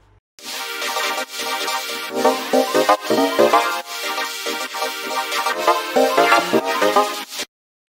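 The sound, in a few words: synthesizer track intro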